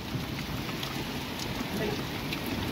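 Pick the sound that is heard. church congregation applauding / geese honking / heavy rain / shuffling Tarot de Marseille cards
heavy rain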